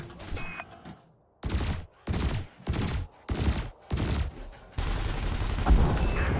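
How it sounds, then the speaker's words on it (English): Ship weapons in Elite Dangerous fire in five or six heavy, evenly spaced bursts, loud and close, ending in a sustained blast of gunfire with a beeping tone over it. "Your ship has 2 weapons installed. Make sure you use both your primary and secondary triggers."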